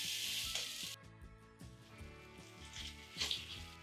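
Pork chops hitting hot vegetable oil in a heavy pan, a steady crackling sizzle with sharper spits and pops over a low background hum, close and moderately loud throughout.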